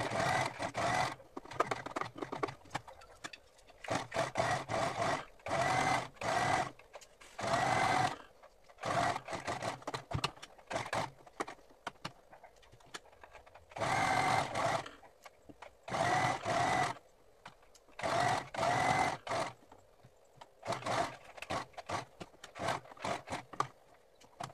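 A sewing machine stitches a seam around a fabric bandana, running in rapid rattling bursts of a few seconds each with brief pauses between, close and steady.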